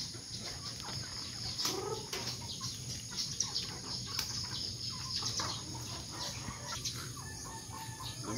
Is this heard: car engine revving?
no